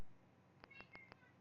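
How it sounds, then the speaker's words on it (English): House cat meowing indoors, four short faint meows in quick succession over a quiet room background, with no talking. "the fact that you can hear my cat is the most hilarious thing"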